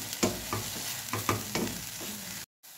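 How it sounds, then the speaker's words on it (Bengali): A carrot halwa mixture is stirred on a low simmer, with a soft bubbling sizzle under rhythmic spoon scrapes, about one every half second, before a brief drop to silence near the end. "এবার একটু সিম করেই নাড়াচাড়া করতে হবে।"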